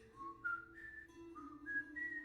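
A person imitating Ellie's improved whistling from The Last of Us whistles a soft, stepped melody of several rising notes, quiet and without other sounds.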